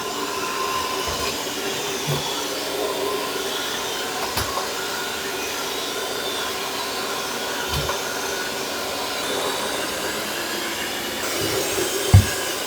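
A Lydsto W2 Edge robot vacuum sweeps and mops a hard floor with a steady, continuous whirring drone and a few faint knocks and bumps along the way.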